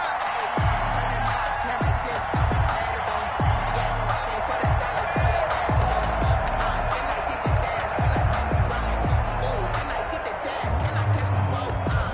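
Broad roar of a football stadium crowd in a PS4 game, a steady loud wash of cheering with rhythmic thumps underneath, and game commentary talking over it.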